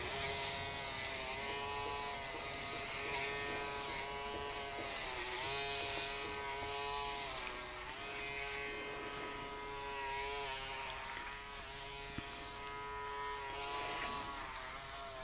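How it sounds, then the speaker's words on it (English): An old electric shaver with a worn blade shaves a head, giving a close, steady buzzing hum whose pitch dips briefly now and then as it drags against the scalp. "Unfortunately, this blade is kind of old and it's hard to find replacements."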